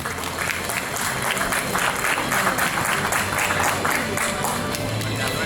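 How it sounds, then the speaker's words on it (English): A warm round of applause from the audience at an inauguration ceremony, steady, close and continuous clapping from a crowd for an honoured guest, holding at an even level throughout. "Let Hanumantrao Garu with a warm round of applause."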